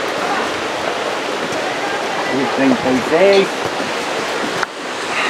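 Water rushing steadily at a spring source that feeds five villages, a constant loud wash with voices speaking briefly over it near the middle.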